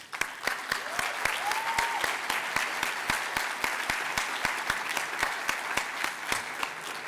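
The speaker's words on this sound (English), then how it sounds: "we can give you a round of applause" Audience applause fills a conference hall on street design, a sustained wash of many hands clapping with sharp individual claps and a voice briefly audible beneath.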